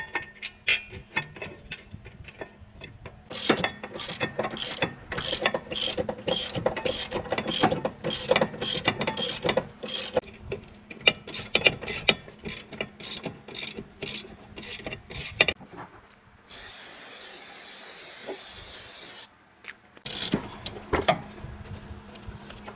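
A hand ratchet tightens bolts on the rear brakes of a 2003-2008 Honda Pilot, sounding as long runs of quick, sharp, evenly spaced clicks, close and crisp, paused by a short burst of hissing noise before a few final clicks.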